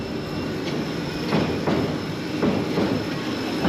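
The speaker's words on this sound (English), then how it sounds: "Here comes the train." An electric railway train at Tokyo DisneySea rumbles past nearby, its wheels clicking over rail joints with a few sharp metallic clacks over a steady rolling drone.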